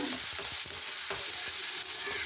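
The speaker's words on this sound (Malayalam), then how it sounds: "നെയ്യ് ഒന്ന് ചൂടായി വരുന്ന സമയത്ത് എടുത്ത് വെച്ച കാഷ്യൂ ഗ്രേപ്സും ഡ്രൈ ഗ്രേപ്സും ഇട്ട് കൊടുക്കാം" Cashews and raisins crackle in hot ghee, a dense steady sizzle with soft scraping strokes as they are stirred, close up and without any talking.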